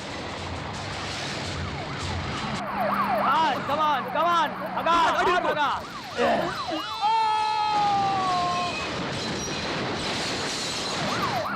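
Police siren wailing during a car chase, rising and falling repeatedly, loud and close, then a long high tone, under shouted urgent voices and engine noise.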